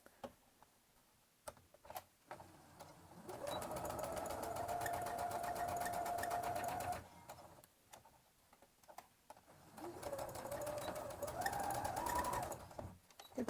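A sewing machine stitches fabric for a cloth Easter bunny's overalls, running in two steady whirring, ticking bursts of a few seconds each, separated by quiet pauses with faint clicks and handling.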